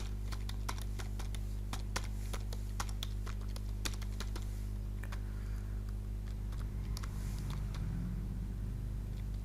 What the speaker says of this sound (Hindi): एक नया पैराग्राफ टाइप कर लेते हैं